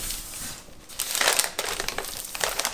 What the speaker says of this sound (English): And to peel it away from the parchment, it's so easy, just like that.